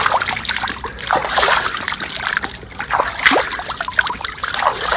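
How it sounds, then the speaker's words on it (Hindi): Hands are washed in a shallow, nearly dried-up village pond, with water splashing and trickling steadily throughout in close, repeated scoops and drips; no one speaks. "इसमें हाथ धोने के लिए आया हूँ, वो भी धो लेता हूँ"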